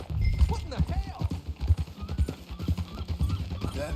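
Horse hooves clip-clop at a steady walking pace while riding in a video game, low and continuous beneath characters talking throughout.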